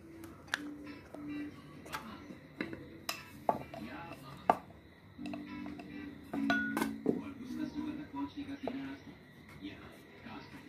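A knife slices through karanji dough on a kitchen surface, giving scattered soft taps and clicks against a quiet background with faint murmuring and the occasional clink of utensils.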